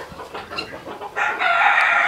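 Chickens on an ornamental bird farm clucking in short bursts, followed by a loud rooster crow close by, with no talk.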